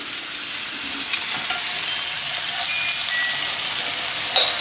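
Onions and tomatoes frying with salt in a pan, a steady close sizzle with faint stirring scrapes and no voices.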